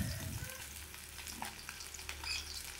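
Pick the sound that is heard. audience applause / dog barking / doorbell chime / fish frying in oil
fish frying in oil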